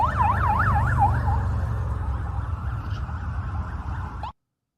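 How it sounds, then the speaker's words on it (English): Wailing sirens of emergency vehicles in a motorcade in Washington, DC sweep up and down over a steady low traffic rumble, loud at first and then fading as the wail trails off before a sudden cut. "those sirens are going 24/7"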